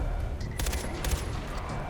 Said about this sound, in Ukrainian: Хто стріляє з гранатомета?